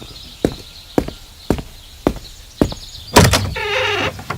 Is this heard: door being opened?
yes